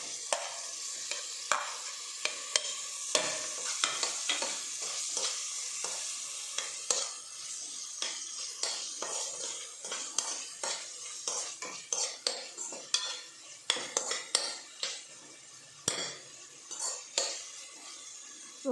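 Tomatoes sizzle softly in a pan for a biryani-style Maggi noodle dish while a metal spoon stirs and scrapes repeatedly, the clinks growing quicker toward the end, quiet and close.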